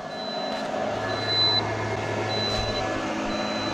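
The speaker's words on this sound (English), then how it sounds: "here you can see the low state of charge alarm" A battery's low state-of-charge alarm beeps thin and high every second or so over a steady low engine-like hum, during a 230Ah battery capacity test.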